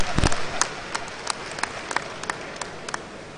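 An audience at a Senate President's speech at a Niger Delta stakeholders' summit gives scattered, sparse handclaps that start with a few sharp claps and thin out into isolated slaps over a few seconds.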